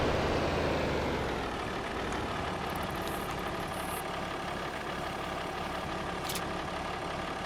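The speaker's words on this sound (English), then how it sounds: "I'm going to have to try and pull this trailer with this tractor" A tractor engine in Farming Simulator 25 hums steadily at a heavy idle-like drone while pulling a trailer, continuous and moderately loud with a faint high hiss partway through.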